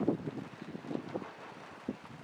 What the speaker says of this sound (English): Sorry about that wind.